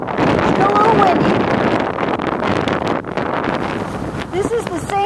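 Strong wind gusting over a boat on Lake Okeechobee, a loud, continuous rumbling buffet against the microphone with brief lulls, while people talk underneath.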